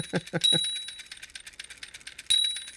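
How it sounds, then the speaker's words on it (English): A small, bright metallic bell inside a wind-up toy dings twice, brief high rings standing out over soft clicking and rattling. "got a little bell in there"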